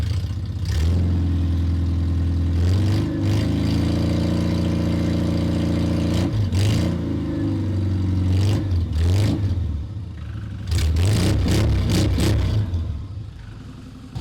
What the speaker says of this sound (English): I'm just going to let that run for a minute, let the coolant get round the engine